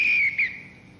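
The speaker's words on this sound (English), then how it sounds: "He took out a whistle and blew it." A single whistle blown hard in one shrill blast that breaks briefly and then trails off, close and clear, with no voices.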